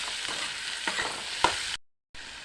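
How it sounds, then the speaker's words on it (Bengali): Boiled black chickpeas fry in a hot pan, giving a steady close sizzle with a few stirring scrapes, then a brief dropout to near silence before the frying resumes. "এটাকে সুন্দর করে ভেজে একটা মশলা তৈরি করতে হবে।"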